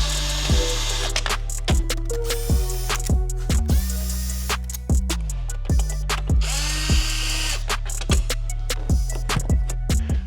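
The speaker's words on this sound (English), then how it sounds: "With the plastic caps off, it'll expose 4 Phillips screws. We got to get those out." A power drill backs out Phillips screws from a Land Rover LR3/LR4 tailgate, its motor whining in repeated short revving bursts with ratcheting clicks, close and loud with no voices.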